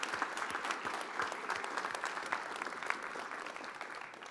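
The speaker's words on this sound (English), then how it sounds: "Let's give a big warm applause for these judges for being here with us tonight." An audience applauds judges at the 4impact Challenge evening event at the University of Denver, with steady, dense clapping that holds evenly for several seconds from a large crowd.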